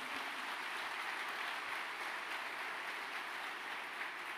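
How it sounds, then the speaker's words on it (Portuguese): A large audience at a business talk gives a burst of loud, sustained applause, dense clapping filling the whole stretch with no voices over it. "Dá uma salva de palmas bem forte então, para a gente aumentar essa energia."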